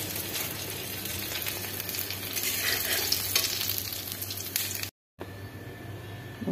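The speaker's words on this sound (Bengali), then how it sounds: "এপিট এপিট করে ভেজে নিচ্ছি" Vegetable fritters frying in oil, a continuous close crackling sizzle with faint stirring, briefly cut off near the end before resuming more quietly.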